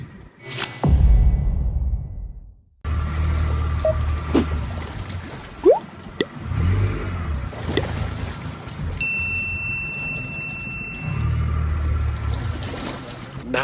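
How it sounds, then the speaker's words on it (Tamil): Safari boat moving on water at Bhadra, with engine rumble and splashing water throughout, loud and close, and a brief gap near the start. "ஆனா இந்த டைம் வேற போட்."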